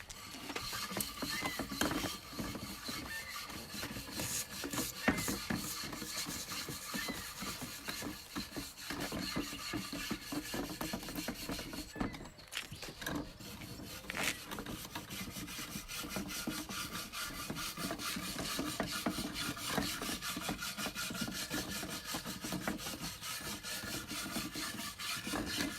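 A stiff brush scrubs hard and fast across a torched wooden tabletop, a dense, continuous rasping with quick back-and-forth strokes and a brief pause midway.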